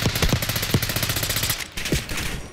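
Rapid automatic gunfire in Call of Duty: Black Ops 6, a loud continuous burst of closely spaced shots with a few heavier cracks, a short pause near the end, then firing resumes.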